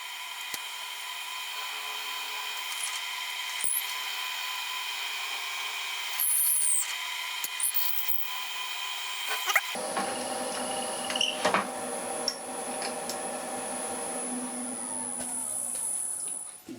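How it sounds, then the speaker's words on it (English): A drill bit bores holes into a resin and pine cone blank turning on a lathe. A steady high motor whine runs throughout, and partway through it shifts into a fuller, louder grinding drone with scattered scraping and clicks. "I've got the right drill bit to drill the holes in the blank"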